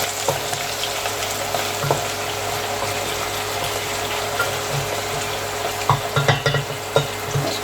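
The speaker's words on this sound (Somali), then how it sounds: "asxaabi marka saliid way soo qarqartay basashaan waa inaan ku karto" Chopped onions fry in hot oil in a pot for a biryani, giving a steady, dense sizzle with a few louder crackles and stirring taps toward the end. No one speaks.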